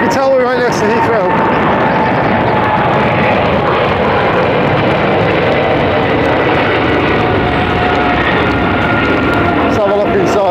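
Aircraft close to Heathrow airport, a loud, continuous broad engine roar running through the whole stretch, with voices talking faintly in the background.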